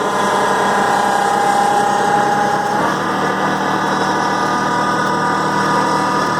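A small engine on a Kubota tractor running steadily near the microphone, holding a constant drone that shifts and deepens slightly partway through as throttle is given.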